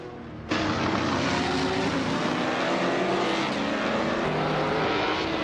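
AI-driven race cars in a racing video game, a loud continuous engine roar that cuts in abruptly and holds steady, with several engines blending together and no talking.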